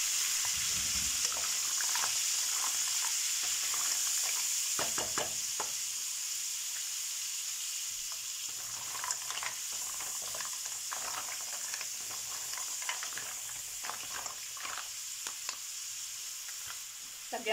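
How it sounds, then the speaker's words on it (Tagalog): Mussels (moules) sizzle and fry in a pan for spaghetti, making a constant hissing crackle with occasional stirring clatters, close and steady throughout, with no talk. "Idagdag na natin yung ating shells."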